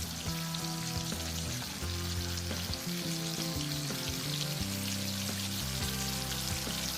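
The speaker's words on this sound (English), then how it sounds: "We'll start by frying the whole pack of bacon." A whole pack of bacon fries in a pan, giving a steady, dense sizzle and crackle up close that runs continuously with no talking.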